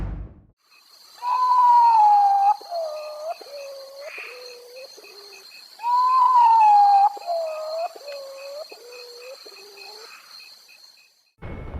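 A potoo's mournful call repeats twice: a long wavering note sliding downward, followed by a series of shorter descending notes, clear against a quiet background.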